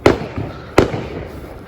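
Fireworks burst in two sharp, loud explosions about 0.7 seconds apart, each trailing into a crackling rumble, heard outdoors during a U.S. fireworks display.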